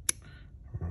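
Wire cutters snip off a blade terminal from a Club Car DS golf cart wire, making a single sharp close click, followed by faint handling rustle.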